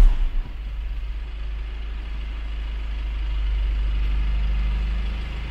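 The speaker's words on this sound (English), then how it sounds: "Start the engine." A car engine cranks and catches during a battery test, then settles into a low, steady idle rumble heard up close for several seconds.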